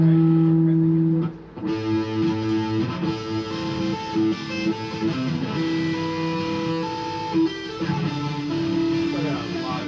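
An electric guitar plays loud chords and riffs through heavy distortion in a specific tuning, sustained and saturated from start to finish after a brief held note.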